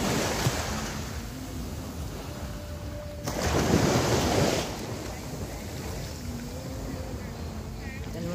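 Sea waves at a white-sand beach in Iba, Zambales: a steady broadband wash of surf with wind, swelling into a louder breaking wave midway before settling back to a constant roar.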